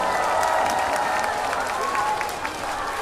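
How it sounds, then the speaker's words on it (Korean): Outdoor audience at a Korean county herbal medicine festival applauds the fans of a singer performing on stage, steady clapping mixed with faint crowd noise and a few cheers that fade slightly near the end. "여러분 한번 저희 팬분들에게 박수 한번 부탁드릴게요"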